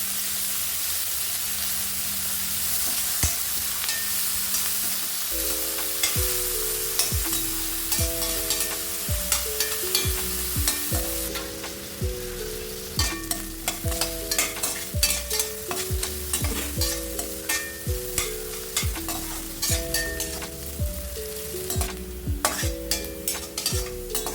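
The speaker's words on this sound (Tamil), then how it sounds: "போட்டு நல்லா வறுத்துக்கலாங்க கலர் மாறணும் நல்லா ஃப்ரை ஆகணும்" Pirandai (veld grape) frying in a pan gives a constant sizzle and hiss, with rhythmic clacking strokes of a spoon as it is stirred, close up. Background music with repeating tones plays underneath from about five seconds on.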